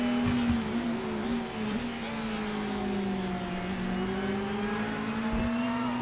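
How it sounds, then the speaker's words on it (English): A turbocharged McLaren GT3 race car in a racing video game on the Interlagos circuit, its engine holding a steady high-revving drone with a rising and falling pitch, loud and continuous down the straight. "Down that straightaway, trying to keep the turbos in the McLaren spooled up."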